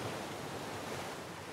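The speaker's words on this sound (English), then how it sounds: "There emerges a symphony so sweet, so subtle, that it's almost a kind of silence. The sound of the ocean," Ocean waves wash in a steady, continuous surf hiss, soft and even, with a faint breeze mixed through and no distinct breaks between swells.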